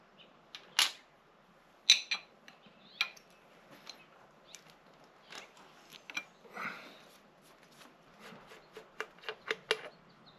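Valve caps being unscrewed and pulled off a Honda 400EX ATV engine during a valve adjustment, heard as a series of close, sharp metallic clicks and clanks spaced irregularly, with a brief scraping rattle in the middle.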